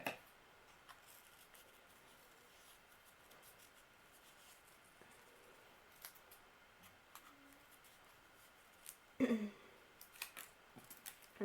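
Scissors snip through paper while a paper snowflake is cut, quiet and close, with a few sparse crisp snips and rustles and a louder cluster of cuts toward the end.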